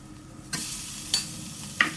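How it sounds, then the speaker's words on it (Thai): Minced pork stir-frying in a pan with chilli and garlic, a steady close sizzle with three sharp scraping strokes of the spatula. "ผัดหมูสับให้สุกเลยนะฮะหรือเกือบสุกก็ได้นะครับ"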